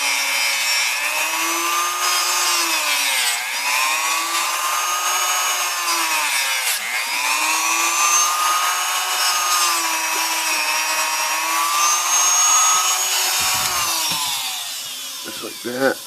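A Dremel rotary tool cuts through plastic with a loud, continuous high whine that holds steady pitch for most of the span, dipping slightly as the bit bites, then trails off into small handling noises at the end.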